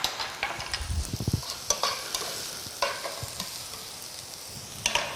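Minced garlic fries in a pan for a salami tomato sauce meant for lasagne: a burst of scraping and stirring clatter at first, then a soft, steady sizzle dotted with small clicks of the utensil.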